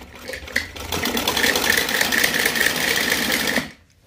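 Sewing machine stitching hosiery fabric such as T-shirt or lower material at home, a steady fast mechanical whirring hum running for several seconds, close and alone, then stopping.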